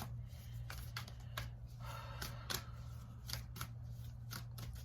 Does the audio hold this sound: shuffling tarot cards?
yes